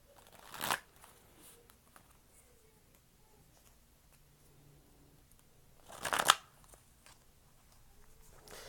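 Tarot cards being shuffled at close range, two short crisp riffling bursts several seconds apart with near silence in between.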